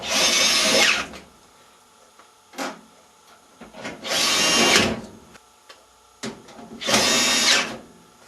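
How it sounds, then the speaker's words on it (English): Power drill driving the three top panel screws into a Whirlpool dryer, heard as three loud, close whirring bursts separated by quieter handling sounds. "Install the 3 top panel holding screws."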